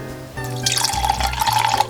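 Water is poured into a mixture of lemon juice and sugar, a close, bubbling splash and trickle that starts partway in and continues steadily over a low background hum.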